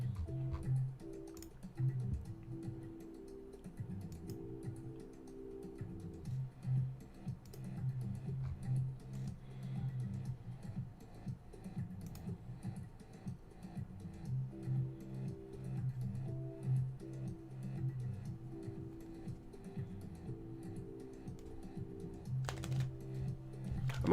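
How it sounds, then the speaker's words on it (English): Keys clatter on a computer keyboard in quick, irregular bursts of clicks, faint and close, continuing over a low steady hum for the whole stretch. "I'm always typing, always doing stuff."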